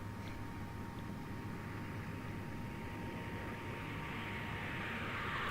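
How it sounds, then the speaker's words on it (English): A fixed-wing airplane flying in the video game Always Sometimes Monsters, a steady broadband engine drone with a faint high whine that holds constant and swells slightly toward the end, with no voices. "Airplane, plane, airplane."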